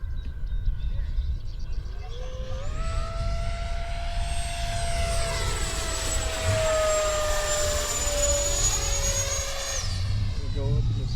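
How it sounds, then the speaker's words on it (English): An 80mm X-Fly Sirius RC jet plane flies past with a loud, steady ducted-fan whine whose pitch sweeps up and down as it swoops overhead, sustained for most of the stretch against constant background rumble. "It's a very fun plane."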